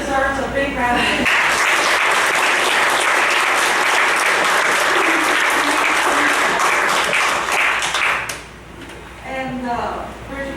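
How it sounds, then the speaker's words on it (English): A room at a county fiscal court meeting breaks into sustained applause lasting several seconds, dense and steady before tapering off; brief talk is heard just before it begins and again after it ends. "she deserves a big round of applause"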